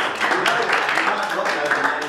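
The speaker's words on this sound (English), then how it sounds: "Can we just have a round of applause for Rada?" An audience applauds a presenter at a Beenleigh presentation, a brief burst of steady clapping lasting about two seconds.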